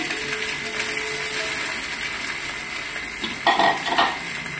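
A spoon stirs rice into fried egg in a hot pan, giving a quiet steady sizzle with a few scraping clatters near the end.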